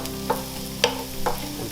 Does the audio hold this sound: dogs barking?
no